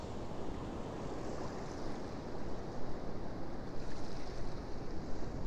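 Heavy Sea of Japan winter surf at Amaharashi Coast, Himi, crashes and roars continuously, with wind buffeting the microphone and swells surging louder toward the end.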